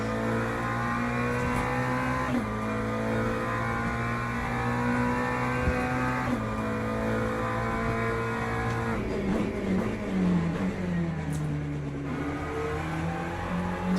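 A McLaren race car in the video game Le Mans Ultimate drones with a steady engine note that rises and drops through gear changes, close and continuous with no talking.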